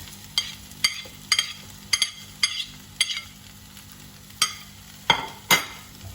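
Tomatoes stirred into golden fried onions in a pan for sev bhaji, a faint sizzle under about a dozen evenly spaced sharp spoon knocks and scrapes against the pan, close by and without talk.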